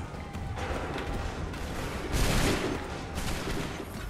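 A volley of musket gunfire in Assassin's Creed 3, a rolling burst of several shots that swells to a louder crack-laden peak midway, set against a dense distant battle din.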